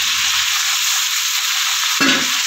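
Sliced ridge gourd dropped into hot oil in a pan, a steady frying sizzle with a sudden louder burst of spitting and stirring near the end.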